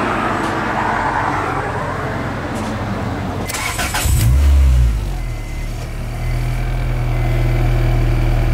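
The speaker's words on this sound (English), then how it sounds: "I started the car" A car engine cranks and catches with a loud low roar, then settles into a steady rumbling idle after earlier background noise inside the vehicle.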